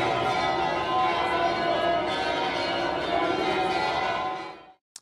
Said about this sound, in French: la basilique a fait sonner les cloches durant leur prière